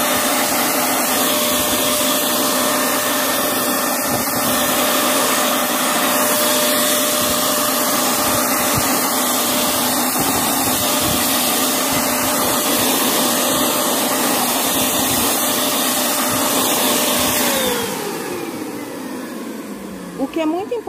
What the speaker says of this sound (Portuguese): quando se está pintando com a pistola pulverizadora, vocês não podem ficar muito tempo mirando em um lugar só